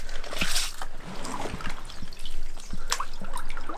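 A walleye caught ice fishing is released into clear water through the ice, bringing close trickling, dribbling water and a few small splashes and drips in irregular bursts, with no talking.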